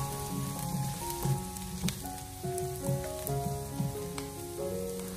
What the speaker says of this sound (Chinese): 碗锅里面添加少许的油，下切好的蒜末，用小火给它翻炒一小会